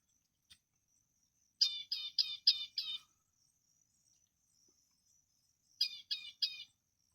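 A small bird chirps at Malampaya Inner Sound in two short bursts of rapid, high twittering notes separated by a few seconds of near silence.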